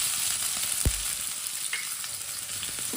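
Finely chopped onion frying in a pan for aloo tikki, a steady close sizzle with a dull knock and a few light scrapes of stirring.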